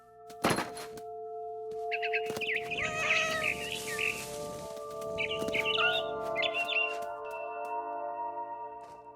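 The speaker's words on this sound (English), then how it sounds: "Then I heard chirping outside my window. It was a barn swallow going back to her nest." In What Remains of Edith Finch, a barn swallow chirps outside a window in two short bursts of quick high chirps over a soft sustained tonal background. A sharp thunk comes near the start.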